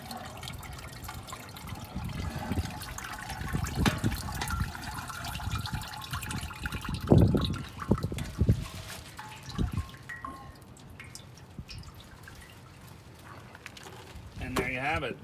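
Liquid dripping and trickling off a deep-fried turkey lifted out on a hook, a soft irregular patter with a few louder splashes, while a person talks in the background.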